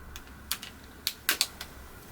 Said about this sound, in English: If you do hear that popping, don't be alarmed. It's just the lens unseating itself from the grooves of the frame.